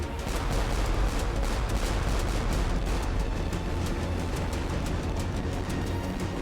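Naval cannon fire at the Battle of the Nile thunders in a dense, continuous barrage of loud overlapping blasts and rumble, with rapid cracking shots throughout.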